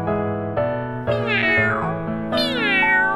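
A voice imitates a cat in a children's animal song, giving several drawn-out meows in a row, clear and close, with bright sliding pitch and a musical tone.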